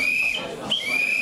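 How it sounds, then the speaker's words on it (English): A whistle sounds at the end of a business networking round, with two sustained shrill blasts separated by a short break, heard clearly over faint background chatter. "all before the final whistle blew."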